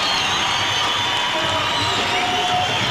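Large arena crowd at a 1996 women's volleyball match between the USA and Cuba, a steady roar of cheering and noise filling the space continuously without a break.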